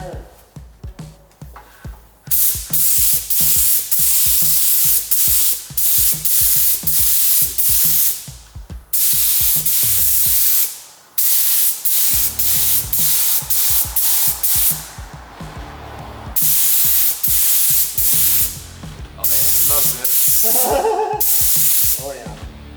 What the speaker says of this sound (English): he's gonna start priming this thing